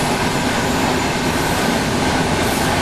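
The Mangala Lakshadweep Express roars along while overtaking another train, a loud, steady rumble of wheels and rail noise heard from inside the moving train, with no voices.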